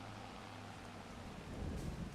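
Steady rain hiss in Farming Simulator 25 during seeding on the Judith Plains, Montana map, a continuous broadband wash with low rumbling that swells slightly near the end, no talking over it.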